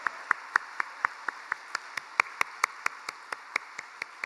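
Church congregation at a special dawn prayer meeting clapping in unison for the children, a steady rhythmic beat of about four claps per second, crisp and moderately distant.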